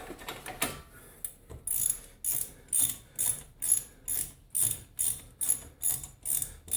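A hand ratchet loosens the ball joint bolt on a 2000 Dodge Ram, a close, steady series of about a dozen rhythmic clicking strokes with brief pauses between them.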